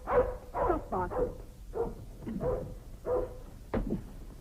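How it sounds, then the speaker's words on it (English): A dog barking in an indoor setting at the foot of a stairway, a run of about eight sharp, fairly close barks in an uneven rhythm, heard alone. "Hagen, be quiet. Stop barking."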